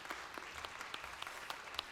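A church congregation at a New Year prayer meeting applauds, brief, fairly faint and distant clapping in a reverberant hall.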